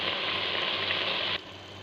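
Pumpkin halwa roasts in ghee and milk in a pan, giving a steady, close hiss and sizzle that drops suddenly to a quieter sizzle partway through.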